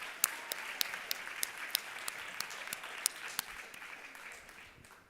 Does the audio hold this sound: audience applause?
yes